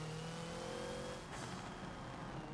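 Hoonigan Focus race car engine in the Forza racing game accelerating, a faint droning pitch that climbs then drops at a gear change, continuing steady afterward.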